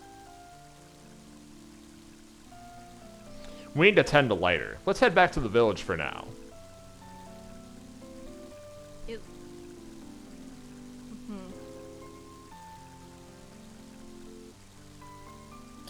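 Pouring rain patters steadily in the Mother 3 video game beneath tonal game music, while people talk briefly over it partway through.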